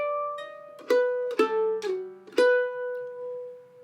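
A mandolin picks out a slow bluegrass phrase in G: a few clear, ringing plucked notes with gaps between, close and solo, fading as the last note rings out.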